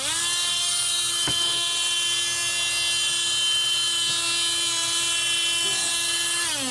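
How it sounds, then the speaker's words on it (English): A Dremel rotary tool whines at a high, steady pitch while working polymer clay, loud and continuous, with a few faint taps from contact with the piece. "I'm going to use the Dremel because it's faster."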